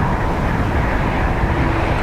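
Airliner arriving at Dublin Airport in a stormy crosswind, a steady loud broadband roar of engines and wind with no break across the whole stretch.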